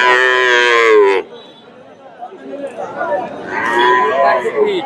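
Sahiwal-cross cows at a busy cattle market, one giving a loud, drawn-out moo at the start, followed by a quieter stretch and then another lowing call rising over crowd chatter.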